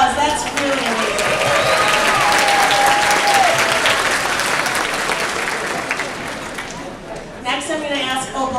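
An awards presentation audience breaks into sustained, loud applause that gradually thins and fades, while a voice speaks over the clapping.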